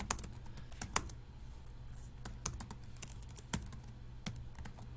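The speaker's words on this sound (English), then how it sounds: "Now what happens is if you keep typing" Typing on a computer keyboard: irregular, crisp key clicks and taps at close range, some louder strikes among lighter presses, continuing steadily with no talk.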